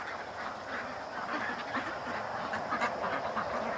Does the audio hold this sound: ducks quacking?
yes